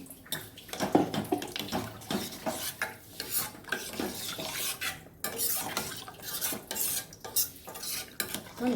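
Water is poured into a cooking pot of bones for bone soup, a steady splashing and sloshing with occasional clinks of metal cookware, continuing unevenly for several seconds without speech.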